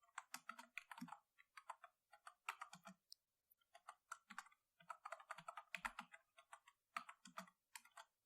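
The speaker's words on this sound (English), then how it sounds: "type the values" Steady bursts of typing on a computer keyboard while entering values into an SQL insert statement, crisp close key clicks in quick irregular runs with short pauses between words.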